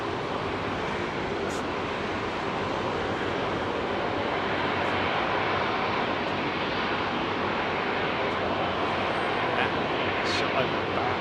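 An airliner roars at close range by runway 27R at London Heathrow Airport, a dense, steady, loud rush of engine noise that holds unbroken for the whole stretch.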